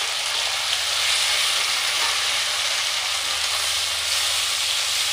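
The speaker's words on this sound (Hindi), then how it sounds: "अब इसमें हम टमाटर डालेंगे।" Tomatoes going into browned onions and green chili frying in a pan make a steady, even sizzle that holds for the whole stretch with no voices over it.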